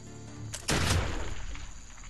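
A single loud gunshot in the video game Expeditions Conquistador, one sudden close blast that rings out and decays slowly over ambient background.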